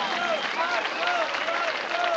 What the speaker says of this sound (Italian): vogliamo un grandissimo applauso per lui